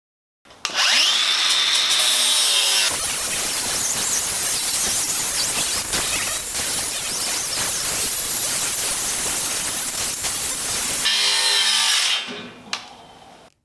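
Angle grinder working the edge of a steel plate for a homemade sheet metal bender, a loud harsh continuous grinding roar with a high whine as it spins up and down at each end.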